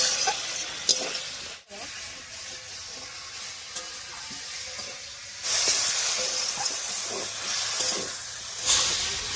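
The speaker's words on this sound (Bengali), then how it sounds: "এবারে মশলা বাটা জল দিয়ে কষিয়ে নেব।" Spice paste cooking down with water in a pan for a Bengali shol fish curry with potato, eggplant and stems, giving a steady close sizzle and hiss with stirring, swelling louder in bursts toward the end.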